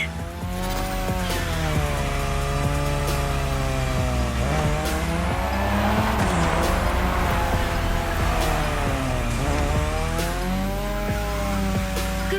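Car drifting on a drift track in the video game The Crew Motorfest, Japan setting: a loud, continuous engine roar with rising and falling revs and steady tire squeal throughout, close and alone without talk.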